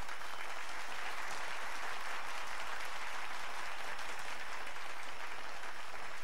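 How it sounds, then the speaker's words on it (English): A large assembly audience breaks into deafening applause, a thick continuous wash of many hands clapping at once, sustained and even throughout with no voices on top. "a deafening applause of 2 minutes followed."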